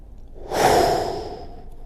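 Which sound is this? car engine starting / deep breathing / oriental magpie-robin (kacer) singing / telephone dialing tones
deep breathing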